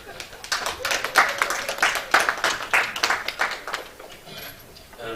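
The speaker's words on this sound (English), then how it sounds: "Thank you for being such great volunteers. Can we clap?" Applause from an audience, many hands clapping steadily and fairly loud for several seconds before tapering off, with faint voices mixed in.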